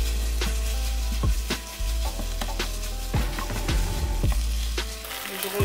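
A beef filling with tomato paste and breadcrumbs sizzles in a pan for Jamaican-style pastels, with a steady frying hiss broken by several clanking, scraping stirs of a utensil against the pan.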